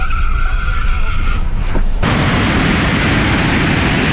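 Drag racing cars, including a 911 Turbo, a big-tire 'Cuda and Tesla Plaids, launch with a loud, close burst of tire squeal and skidding that turns into a roaring wash of engine and road noise.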